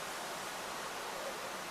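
Kaveri river water pours over Chunchanakatte waterfall in Karnataka, a steady broadband roar of rushing water that holds even and unbroken throughout, with no voices.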